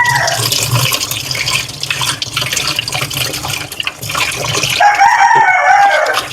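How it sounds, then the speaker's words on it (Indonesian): A rooster crows loudly nearby over running water from a tap, with hens clucking in the background. "Bisingnya kok ayam."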